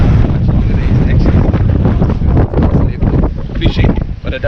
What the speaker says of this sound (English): And it's very windy at the moment.